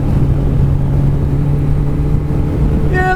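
A Kawasaki ZX-14R (ZZR1400) roars hard under full acceleration toward 60 mph, its loud, steady engine drone buffeted by wind, with a brief rising whine right at the end.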